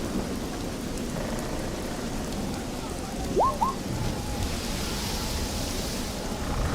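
A played thunderstorm sound effect for a tabletop roleplaying game's stormy boat scene: a steady, dense roar of heavy rain with low thunder rumbling underneath and a brief tonal whistle partway through, with no talking.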